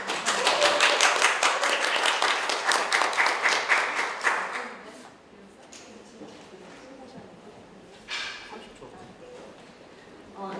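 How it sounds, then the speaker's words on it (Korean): At a gallery exhibition lecture, an audience claps loudly for about five seconds before the applause fades into room quiet, followed by a brief later flurry and faint voices. "큰 박수로 마치도록 하겠습니다"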